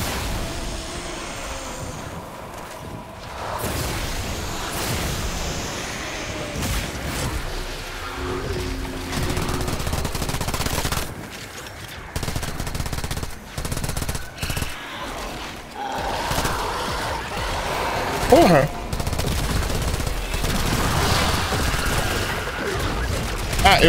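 Rapid gunfire rattles on while shooting enemies in the video game Warframe, with dense bursts and booms throughout and a voice talking over the combat.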